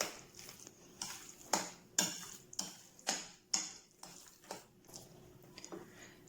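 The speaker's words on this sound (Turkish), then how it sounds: "yoğurtla patatesi Önce bir karıştırırsanız karıştırmanız daha kolay olur." Yogurt being stirred into a garlicky potato salad, a series of rhythmic spoon knocks and scrapes against the bowl, fairly quiet and close, roughly one stroke every half second.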